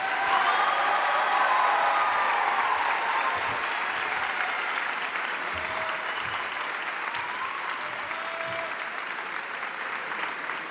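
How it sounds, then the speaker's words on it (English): A graduation hooding ceremony audience applauds Master of Arts graduates in a long, full wash of clapping that lasts over ten seconds, easing slightly after the opening with faint crowd murmur beneath. "Please join me in applauding our Masters of Arts graduates."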